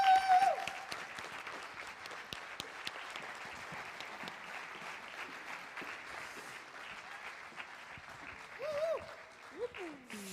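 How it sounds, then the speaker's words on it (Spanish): A theater audience at a carnival gala gives soft, sustained applause as guests come on stage, heard at a distance and fairly quiet, with brief voices at the start and near the end. "Recibamos con un cálido y respetuoso aplauso a Sandra Luisquiños, Miguel Herrero"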